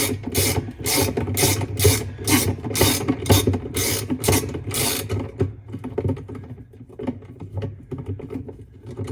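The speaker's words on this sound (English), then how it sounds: "Now there's another bolt right there we're going to take off." Mechanical clicking while a bolt is loosened on a washing machine, a fast run of sharp ratchet-like ticks for about five seconds, then quieter scraping and handling noises close by.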